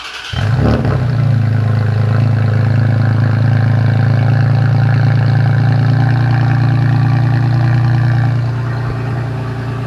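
A Toyota Tacoma with a new Carven exhaust starts in a garage. The engine cranks briefly, catches, and settles into a steady, loud, low rumble that eases slightly toward the end.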